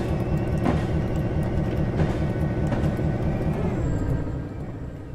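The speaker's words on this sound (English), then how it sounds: "I just need to apply throttle just a little bit so we can get our locomotive moving." Steam locomotive 765 pulling away on a grade in the Railworks train simulator, a steady low rumbling chuff and rolling rail noise that holds loud and continuous throughout.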